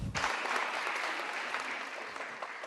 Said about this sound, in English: Applause erupted after the man spoke to this crowd of 300